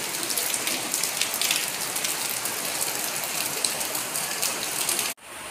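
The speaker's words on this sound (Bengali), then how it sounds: "বেলাটা বাড়ার সাথে সাথে বৃষ্টিটাও বাড়ছে গো" Heavy daytime rain pours in a loud, dense, continuous hiss that cuts off abruptly near the end.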